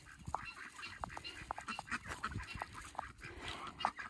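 A few ducks quack faintly in short scattered calls at a homestead as they head into their duck house at night, with a soft background hiss.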